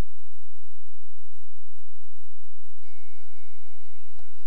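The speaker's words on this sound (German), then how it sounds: "Telefon klingelt." An electronic phone ring starts partway through, a steady multi-tone chirp following near-silence, with a soft knock near the end.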